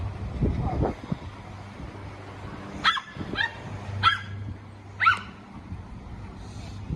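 A small dog lets out four or five sharp barks at uneven intervals over a low steady background hum, nearby and moderately loud.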